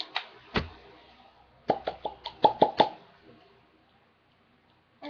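A voice imitates popping bubbles with a string of short, wet plopping mouth sounds. One comes alone early on, then a quick cluster of six or seven plops follows, close to the microphone and with no talking.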